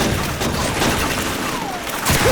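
MG42 machine gun fire in the Call of Duty 2 video game, a dense loud rattle of rapid gunfire amid booming battle noise, continuous and close throughout the short burst.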